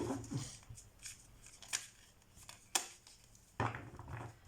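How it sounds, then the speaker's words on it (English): An Osho Zen Tarot deck is shuffled by hand up close, giving soft riffling bursts and a few crisp snaps of the cards between quiet pauses. "I'm shuffling the Osho Zen Tarot deck, so we're gonna be pulling cards from it."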